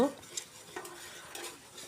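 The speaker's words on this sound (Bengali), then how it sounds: "ভালো করে অনেকক্ষণ লাড়াচাড়া করে আদা রসুনটা ভাজা ভাজা করব" Ginger and garlic fry in a pan for chicken biryani while a spatula stirs and scrapes against the metal, soft clinks and scrapes over a quiet, faint background.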